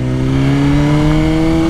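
A motorbike engine revs hard and close, holding a steady, loud, harmonic drone throughout with no talk over it.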